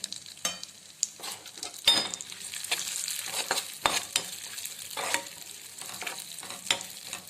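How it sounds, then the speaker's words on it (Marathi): Cashews, almonds and pistachios frying in ghee in a wok for rava laddoos, a steady close sizzle broken by frequent scraping stirs of the spoon against the pan, with no voices. "त्यामध्येच मी ते ड्रायफ्रूट फ्राय करून घेणार आहे"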